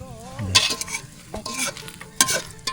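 Eggs frying in a pot while someone cooks for a work crew: close sizzling with stirring scrapes and utensil clinks against the pot, in uneven bursts.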